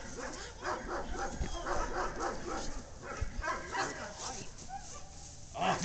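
A 5.5-month-old puppy named Deuce yips, whimpers and barks in short bursts close by, mixed in with a person talking over him throughout.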